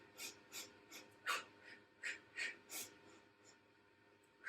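Rhythmic breathing during a shoulders and core workout pump set, a run of about eight breathy inhales and exhales, each roughly half a second apart, close and soft, with no talking.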